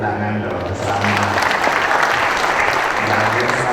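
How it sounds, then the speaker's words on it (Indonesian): A crowd at the Bekasi city anniversary celebration breaks into steady applause, with a voice over the clapping at the start and again near the end. "Tepuk tangan dong, selamat."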